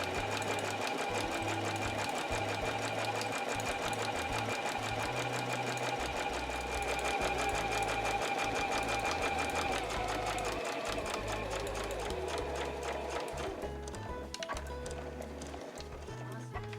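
A sewing machine stitches along the fabric edge of a drawstring pouch, a steady fast mechanical chatter running close and continuous throughout.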